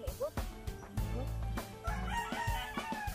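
A large rooster crows loudly and nearby, its call rising and wavering over a background of other fowl and farmyard noise.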